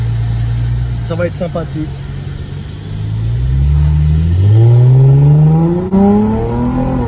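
A car pulls away and accelerates through Montreal streets, its engine note climbing steadily in pitch and loudness as it gains speed, with someone talking briefly over it at the start.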